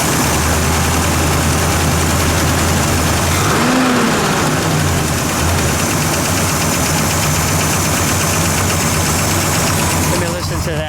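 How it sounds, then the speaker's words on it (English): A 1967 Pontiac GTO convertible sits idling with a loud, steady, low rumbling engine drone close by, continuous throughout, as voices talk over it. "There's always the enjoyment of the Pontiac rumble."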